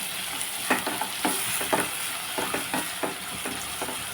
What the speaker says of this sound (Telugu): మనం కొంచెం ఇవి వేపిన తర్వాత బంగాళదుంపలు కూడా వేసేస్తే రెండు కలిపి వేగనిద్దామండి